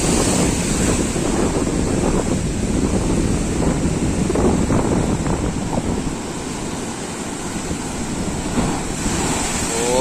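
Rough monsoon sea at Shankarpur beach roars with continuous crashing surf, heavy wind buffeting the microphone throughout, no voices.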